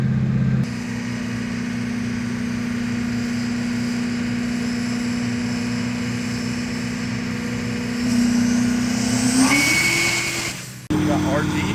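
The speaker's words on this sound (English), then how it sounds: "Got Drew in this Duramax here" A Duramax diesel pickup truck engine drones steadily on a chassis dyno for several seconds, then revs up sharply near the end before cutting off abruptly.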